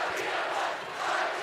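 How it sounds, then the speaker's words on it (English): Roar of a high school basketball student section chanting in a gym during a Waukee Northwest versus Waukee game, a broad, steady wash of many voices, distant and continuous, brief. "student section chanting that this thing's over"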